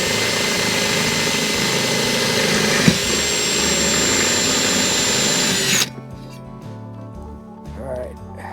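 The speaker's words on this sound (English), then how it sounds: "So where's the shop vac?" A shop vacuum cleans up drilling debris while a dual mount for forward-facing sonar fishfinder screens is fitted on a bass boat, its loud steady roar running close for about six seconds before cutting off, leaving quiet handling sounds.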